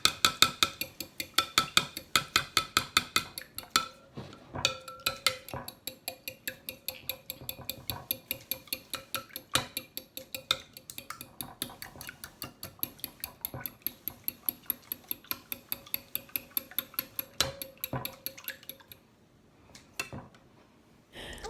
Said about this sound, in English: I'm going to scramble up my eggs